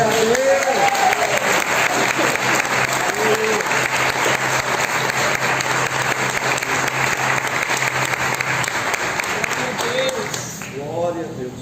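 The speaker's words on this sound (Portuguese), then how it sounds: "Aplauda o Senhor" Church congregation at a family celebration service applauds, sustained dense clapping from a large crowd lasting about ten seconds before fading, with a voice speaking over the start and end.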